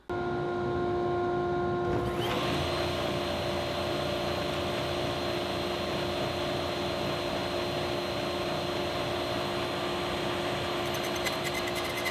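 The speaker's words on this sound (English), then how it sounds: "we're able to push this through the table saw" A table saw runs at a steady, loud whine and hum, pushing through a wooden timber-frame peg. The drone is continuous and mechanical for the whole stretch, with a brief quieter start before the blade noise fills in. No voices.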